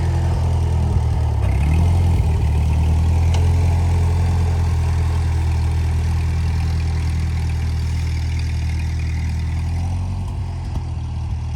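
A vehicle engine runs in first gear on a homestead, a loud steady low rumble that holds for about eleven seconds, with no talking.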